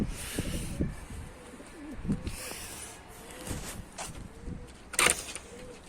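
A pigeon coos softly in low, rolling phrases, close by, with a brief rustle of movement near the end.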